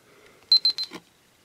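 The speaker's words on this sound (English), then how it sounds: "that triple beep means it stopped" A YI 4K action camera gives three quick, evenly spaced, bright electronic beeps as recording stops, close and clear in a quiet room, followed by a soft click.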